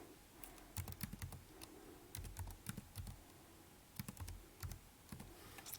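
Someone types a number into a computer keyboard in a quiet room: short clusters of close, crisp keystrokes with brief pauses between groups.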